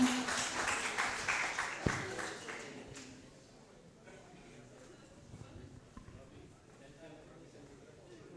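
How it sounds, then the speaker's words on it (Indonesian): Applause at a university research workshop, for a performing artist: a short burst of clapping that fades within a few seconds, after which a voice talks over the quiet room. "Beri tepuk tangan dulu untuk artis Widya Gama"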